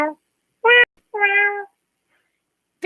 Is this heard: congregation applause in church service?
no